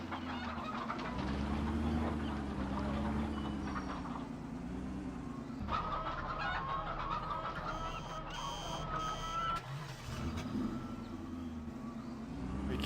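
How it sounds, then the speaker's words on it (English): Chickens in a fattening barn in the Farming Simulator 2015 game, with continuous layered clucking from a flock alongside a droning low hum and some mechanical noises, loud and close throughout. "this is a chicken fattening area"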